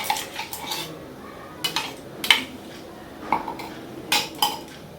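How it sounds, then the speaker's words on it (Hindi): Egg mixed with salt and chili is whisked in a bowl, giving light metallic clinks and scrapes of a utensil against the dish in scattered bursts, close by, with a quiet background and no talking. "पहले मैं इसे अच्छे से मिला लूँगी क्योंकि ये अंडा जो है इसमें नमक और मिर्ची जल्दी मिलता नहीं है"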